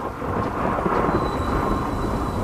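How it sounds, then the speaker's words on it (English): Steady, dense rain with a low thunder rumble in the video game Death Stranding, continuous and fairly loud throughout, with no talking. "Oh, it's raining."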